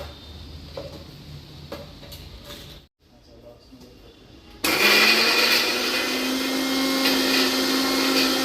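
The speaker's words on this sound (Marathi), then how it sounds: "आता मिक्सर मिक्सरमध्ये बारीक करून घेणार आहे त्याची ग्रेव्ही तयार करून घेणार आहे" A mixer grinder whirs loudly as it grinds boiled onion and cashews into a smooth gravy paste, starting abruptly after a brief lull and running steadily to the end, with faint kitchen sounds and talk before it.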